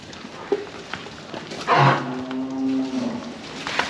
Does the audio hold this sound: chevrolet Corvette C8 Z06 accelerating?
no